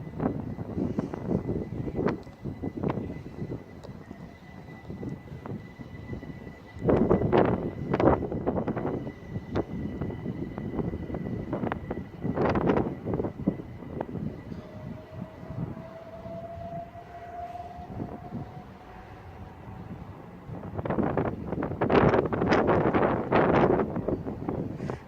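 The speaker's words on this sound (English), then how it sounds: "it's quite cold and quite windy out" Cold, gusty wind buffets a microphone on a railway station platform at Faversham, with rough low rumbling bursts that swell and fade, strongest near the start, middle and end, plus a faint steady whine and a brief rising tone underneath.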